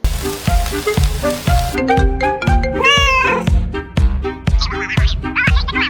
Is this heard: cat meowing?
yes